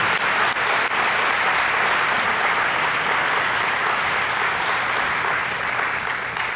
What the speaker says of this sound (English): Let's give all these awardees another round of applause